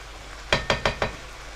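Beef karahi cooking in a pan over full heat, with four quick, close clattering stirs or scrapes in quick succession against a faint sizzle, and no talk.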